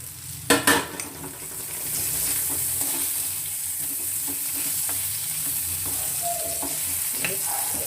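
Brinjal gojju sizzles steadily in a hot pan over a low flame while a utensil scrapes and stirs, with a few sharp clanks at the start.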